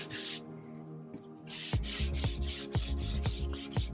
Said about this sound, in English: So I just use a sponge and just put on the hemp oil cloth.